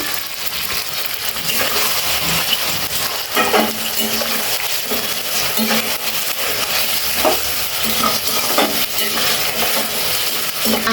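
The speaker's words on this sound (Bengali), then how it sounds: "মাংসটা একটু ভেজে নিচ্ছি অয়েলের সাথে ঠিক আছে তাহলে খেতে ভালো লাগবে" Farm chicken pieces frying in oil with ginger-garlic paste and new potatoes, a loud, continuous close-up sizzle with the scrape and clatter of stirring throughout.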